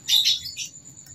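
A pet bird being trained to push and ride a skateboard gives a short burst of bright chirps, two quick close tweets and then a fainter call, with nothing else around it.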